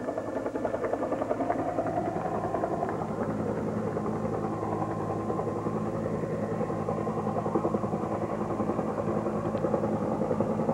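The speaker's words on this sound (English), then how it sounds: "Over the helicopter noise." A steady, throbbing helicopter drone with rhythmic rotor chop near a crowd at the Space Shuttle Columbia STS-1 landing, continuous and fairly loud throughout, with no pauses.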